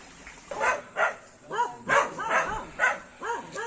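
A puppy gives a quick series of high, yappy barks, about eight in rapid succession, close by near a river in the mountains of Doña Remedios Trinidad, Bulacan, with some voices mixed in.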